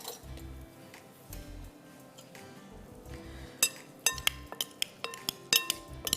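Prawn salad with feta and olive oil being tossed in a bowl with two spoons, giving quiet scattered clinks and scrapes that grow sharper and more frequent toward the end, with no talking.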